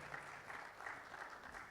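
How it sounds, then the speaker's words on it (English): An audience at a football talk event claps in a steady wash of applause, fairly faint and continuous without breaks. "A round of applause for him."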